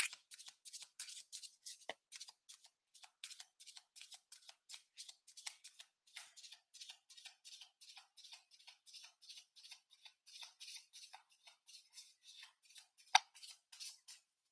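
Reading cards are shuffled for a tarot-style twin flame reading, a quiet, rapid run of crisp riffling flicks that continues almost without pause.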